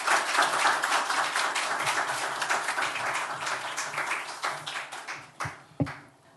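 A church congregation at a Korean Sunday worship service applauds to welcome a missionary. The dense clapping carries on steadily, then thins out into a few last claps.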